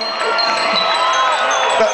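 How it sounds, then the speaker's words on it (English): Festival crowd at Frequency Festival in St. Pölten, Austria, applauding and cheering for a crowd surfer, a steady wash of clapping and shouts with a voice speaking over it. "That's the only round of applause for the crowd surfer."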